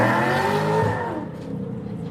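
A hot rod doing a burnout at the Hot Rod Power Tour, its engine roaring loud and near while spinning tires squeal and hiss, then easing down slightly toward the end.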